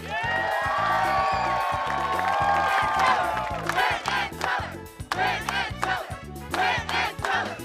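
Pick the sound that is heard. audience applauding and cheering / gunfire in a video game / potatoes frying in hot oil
audience applauding and cheering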